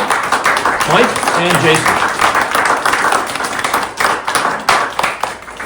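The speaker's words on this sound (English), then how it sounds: "Give them a round of applause." An audience at a public defender office history event claps in a steady round of applause, with a speaking voice heard briefly amid the clapping.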